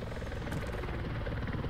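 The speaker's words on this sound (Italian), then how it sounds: "ti abbiamo un elicottero sopra di noi." A helicopter in the military game Arma 3 thrums steadily overhead, a low, dense rotor drone that fills the short moment with no talking.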